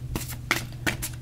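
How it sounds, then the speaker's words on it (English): A deck of tarot cards is shuffled in a few quick riffling bursts, close by and moderately loud over a steady low hum, with no one talking. "One more shuffle."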